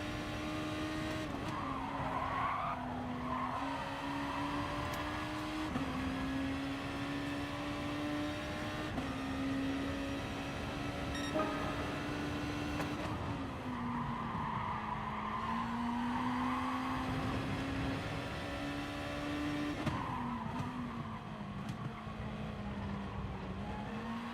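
An Acura NSX race car in the video game GT Sport holds a steady, loud engine drone whose pitch rises and dips through gear changes, with tire squeal and skidding layered over it throughout and no voices.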